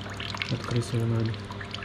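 Water pours and splashes out of every gap in a cleaning and washing system under test, a close gushing and trickling sound over a short burst, mixed with a low mechanical hum and tonal whine.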